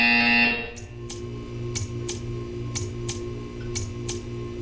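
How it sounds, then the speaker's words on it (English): A loud electronic buzzer in the video game Portal 2 sounds for a moment, then gives way to a steady series of soft, evenly spaced ticks. "When you hear the buzzer, stare at the art."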